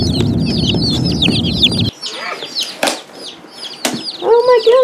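Chickens and small mail-order chicks clucking and peeping in a busy farm coop, with wings flapping; the shrill chirps sound close and loud, first over a low rumbling background, then in bursts against near silence.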